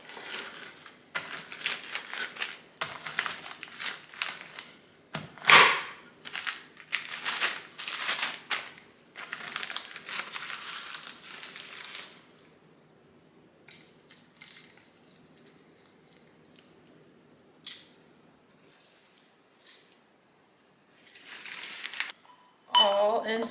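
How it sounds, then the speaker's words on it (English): Oreo cookies are crushed into small 2-ounce condiment cups, giving bursts of crinkling, crunching and rattling that start and stop at close range, with some voice heard between them. "in the bottom I'm going to put some crushed up Oreos."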